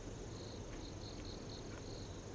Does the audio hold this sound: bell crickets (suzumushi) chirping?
yes